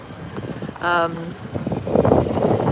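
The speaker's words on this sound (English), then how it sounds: "But it's windy here, there's lots of noise in the background." Wind buffets the microphone in gusts while someone talks outdoors outside the Houses of Parliament; a brief tonal hum cuts through partway.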